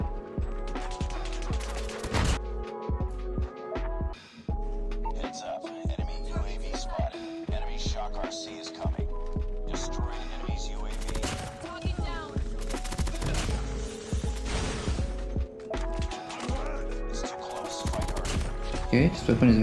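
Rapid bursts of AS VAL assault rifle fire in Call of Duty Mobile, sharp, close automatic shots in short and longer strings with brief gaps, sometimes under a voice talking over the game.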